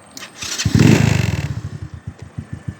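Motorcycle engine running while riding along a rural road near the town of Lian, rising to a loud rev and then settling into a steady rhythmic putter of pulses, close and alone with no talk.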